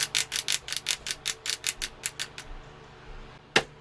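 Ratchet shoulder joints on a LEGO Iron Monger figure click in a quick, even series of about fourteen sharp plastic ticks that slow and fade, then one louder click after a pause, close up with no talk.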